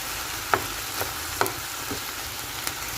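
Onions frying in a little oil for sour kibbeh, a soft steady sizzle with a few sharp utensil clicks against the pan, close and fairly quiet.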